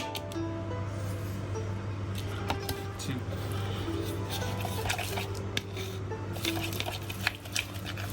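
A spoon stirs chili oil, fermented chili, sesame paste and other sauce ingredients in a bowl for hot and sour noodle soup, with soft wet scrapes and light clinks against the bowl, close and without speech.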